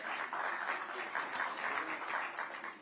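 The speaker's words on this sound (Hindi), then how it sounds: "तालियां जरा जोरदार हो जाएं" Audience applause at a government portal launch event led by a chief minister, a steady, dense patter of many hands clapping that holds evenly throughout.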